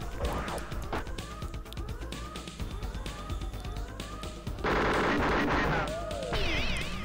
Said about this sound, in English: A long-range, fast ship, which is what he has right now, that shoots little missiles.